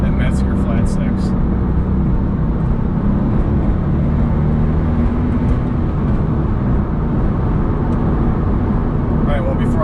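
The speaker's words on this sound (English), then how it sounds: "These turbos just sound so good. That Metzger flat six." Porsche 997 Turbo with its Mezger flat-six drives along in a loud, steady, continuous drone with road rumble, no distinct rev peaks; speech also present.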